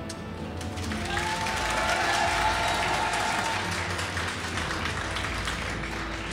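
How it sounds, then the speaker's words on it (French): A live audience claps loudly for an applause meter at a gaming event, a dense, sustained wave of applause that swells and holds for several seconds. "on va effectivement faire ça à l'applaudimètre"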